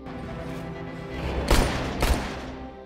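Two sharp gunshots from an action film ring out about half a second apart over a steady dramatic background of music and ambience, moderately loud and close.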